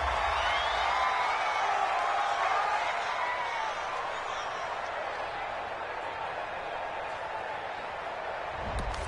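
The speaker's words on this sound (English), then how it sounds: "This home crowd, they're happy with that call." A home crowd in the Madden NFL 21 video game, at a Jets vs Patriots matchup, cheers a referee's call with a steady, continuous roar that holds at an even level throughout.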